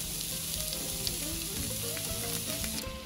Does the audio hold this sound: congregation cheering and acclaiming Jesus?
no